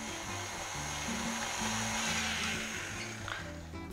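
Steady whirring drone of an electric mixer beating orange cake batter, loud and close, with the motor pitch wavering slightly as the beaters move through the batter.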